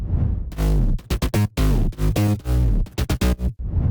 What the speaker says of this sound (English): Then I also added a volume automation for the bass,